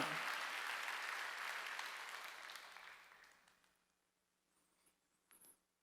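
A church congregation at a Korean Wednesday worship service bursts into loud applause that fades steadily over a few seconds, leaving near silence broken by a couple of faint taps.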